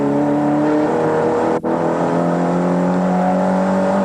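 A turbocharged Nissan race car on a wet track holds a loud, steady engine drone with a strong humming tone, broken by a brief dip in sound partway through before the note carries on, sustained and close.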